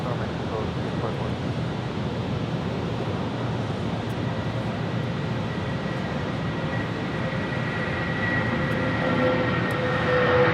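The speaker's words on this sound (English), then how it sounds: "Next departure, United Airlines flight 2204, heading to Denver, the 757 at 300." A United Airlines Boeing 757 departing LAX bound for Denver makes a steady, broad jet-engine roar that swells slightly toward the end, loud and continuous with no talk over it.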